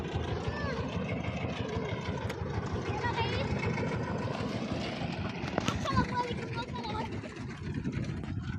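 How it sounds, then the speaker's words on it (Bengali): A boat's engine drones steadily as it comes up the river, a continuous rumbling motor close by, with people talking over it. "এই যে নৌকা আয় পড়ছে, দেখেন।"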